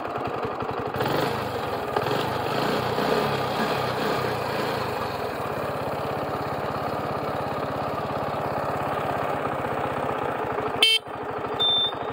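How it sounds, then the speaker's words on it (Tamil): TVS XL 100 Heavy Duty moped, 2022 model, with its small engine starting up and then running at a steady idle, fairly close, with a brief click near the end. "ஸ்டார்ட் பண்ணுறது அப்படியே நீங்கள் ஸ்டார்ட் பண்ணிக்கலாம்,"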